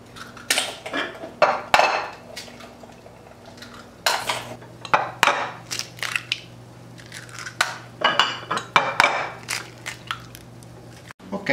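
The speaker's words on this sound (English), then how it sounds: "I wanna start to prepare the eggs" Eight eggs being readied in a bowl for an asparagus Easter frittata make irregular clinks and clatters of utensils against dishes, bursts of knocking and scraping separated by brief pauses.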